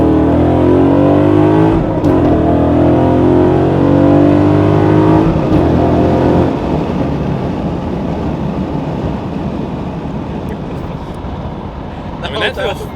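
An 800-horsepower Corvette engine revs hard, its pitch climbing as it accelerates, then settles into a lower rumble with road noise; a voice is heard over it.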